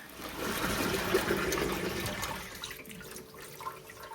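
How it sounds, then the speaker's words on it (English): Running water rinses a brined turkey after draining, a steady splashing flow close by that gradually softens, with no talk. "We're gonna go ahead and drain and rinse this turkey."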